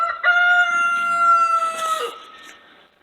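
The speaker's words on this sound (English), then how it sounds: "And this is the chicken ranch." A rooster crows at a Texas chicken ranch, one long, loud cock-a-doodle-doo rising and then trailing off, with faint clucking from other chickens behind it.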